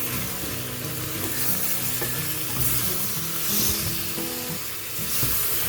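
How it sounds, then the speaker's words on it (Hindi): Sliced tomatoes and spices fry in a pan for an achari chicken dish, with a steady sizzle and repeated stirring scrapes running throughout at close range. "थोड़ा सा पानी डालने के बाद यहाँ पे 2 अदद टमाटर जो मैंने गोल काट लिए वो हम इसके अंदर डाल देंगे और इसको हम पकाएंगे"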